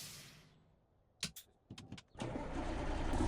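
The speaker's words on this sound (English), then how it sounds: "My engine just stopped, like, completely cut out." Truck engine in American Truck Simulator dying away into near silence, followed by a few sharp clicks and knocks, then a fresh engine roar building steadily louder to the end.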